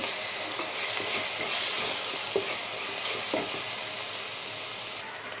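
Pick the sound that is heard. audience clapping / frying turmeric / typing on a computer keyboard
frying turmeric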